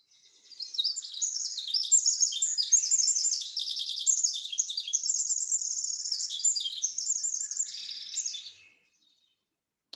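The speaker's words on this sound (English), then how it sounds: "But the Pacific wren is calling now." A Pacific wren sings a long, rapid, high tinkling cascade of trills and chirps, clear and unbroken for about eight seconds against a silent background.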